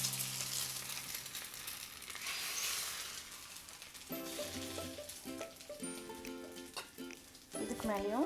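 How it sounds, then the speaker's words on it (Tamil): An egg fries on a hot dosa griddle with a steady, soft sizzle and crackle, while a voice talks over parts of it and spatula scrapes come and go. "இப்போ நம்ம இந்த மாதிரி முட்டையை உடைச்சி எடுத்துக்கலாம் தோசைக்கல்லில்"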